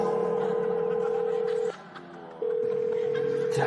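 A telephone gives off a steady electronic tone, holding for over a second and a half, dropping out briefly, then resuming at the same level; it sounds more like a dial-type tone than a bell.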